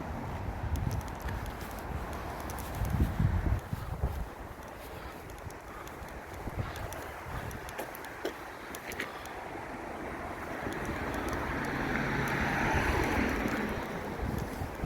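A swollen, high river near Brougham Castle outside Penrith rushes steadily with a broad, continuous roar, loud and close, holding constant for the whole stretch with no voices over it.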